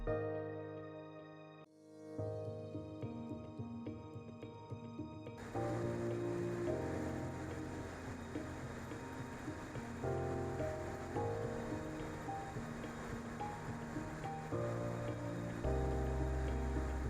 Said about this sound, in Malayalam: ഈ മനോഹരമായ വെള്ളച്ചാട്ടം കാണുവാൻ